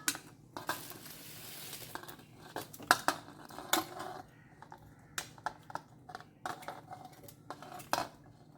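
Taro root washed with a spoon, with irregular clinks and scrapes of the metal spoon against a bowl or pot, closely heard, with short pauses between the knocks.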